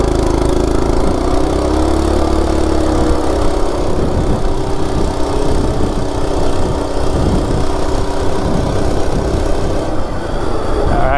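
Stock Coleman RSV minibike with a 196cc engine accelerating hard from 0 to 30, a loud close engine drone whose pitch climbs steadily through the run without a break.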